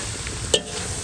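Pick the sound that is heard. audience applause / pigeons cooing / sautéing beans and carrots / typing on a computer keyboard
sautéing beans and carrots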